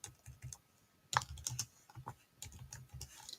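Typing on a computer keyboard, close and clear, with irregular bursts of key clicks and a few louder taps, no voices over it.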